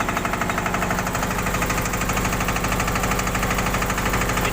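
A Massey 5118 tractor engine runs close by, a loud, rapid, steady diesel chugging with a constant knocking rhythm and no rise or fall in pace.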